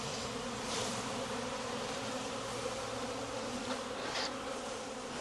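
Honey bees fill the air in a thick, even buzz as they are shaken off a hive frame during queen rearing, the close drone swelling slightly twice without any voices.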